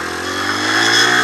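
A 125cc motorcycle engine revs up steadily, a close, loud buzzing drone that climbs in pitch and volume over about a second, with no one speaking.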